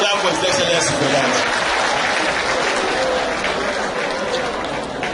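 Sustained applause from an audience clapping for the governor at an education event opening, dense and steady throughout, with voices mixed into the crowd.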